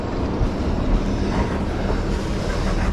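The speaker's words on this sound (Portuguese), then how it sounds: "Cara, tá muito devagar esse trem" A slow-moving train rolls past up close, a steady broadband rumble and rattle of rail cars with a faint rhythmic clatter, loud and continuous with no voices.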